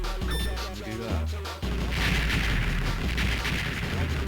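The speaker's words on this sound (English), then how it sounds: "Too many explosions." Rapid chains of explosions and gunfire from the arcade shooter Shock Troopers, loud and continuous over game music.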